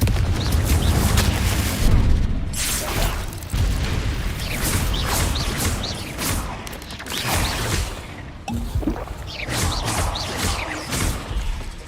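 In Hogwarts Legacy, Confringo blasting spells set off a run of heavy booming explosions, one after another in quick, dense bursts of rumbling impact noise.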